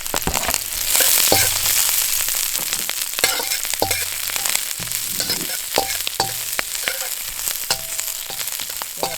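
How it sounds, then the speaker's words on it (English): Ginger and the white part of an onion fry in a little oil in a wok, a loud close sizzle broken by frequent sharp clanks and scrapes of stirring, with no talking. "So in the same wok, I'm going to put a little bit oil in it. I'm going to put the ginger in it. And the white part of onion."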